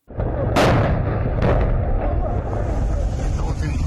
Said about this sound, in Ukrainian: Інтенсивність обстрілу, причому я думаю, стріляють по мені.